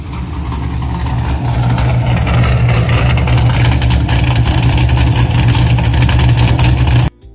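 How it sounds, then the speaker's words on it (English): A 1990 Mazda Miata with a swapped-in LS1 V8 idles loudly and close, a deep steady rumble with a low burbling throb that holds unbroken before cutting off abruptly at the end. "1990 Mazda Miata V8 Monster Miata."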